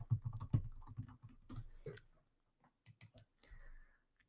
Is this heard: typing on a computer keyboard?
yes